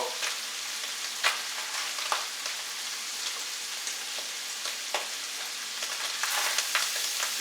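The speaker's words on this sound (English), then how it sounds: "now it's starting to get brown here" Ingredients for bean soup brown in a pan with a soft, constant sizzle and occasional sharp crackles and scrapes from stirring, heard alone at a fairly quiet level.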